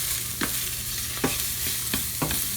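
Sausage and onions sizzle in a pan for a pasta meat sauce, a constant close hiss broken by several soft scrapes of a utensil stirring at irregular intervals.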